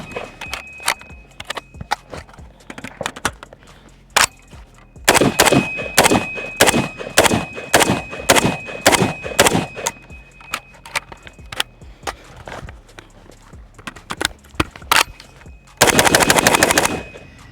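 A Century AP53 roller-delayed rifle fires rapid strings of shots, first a few scattered rounds, then a long loud volley, then a final fast burst, close and sharp.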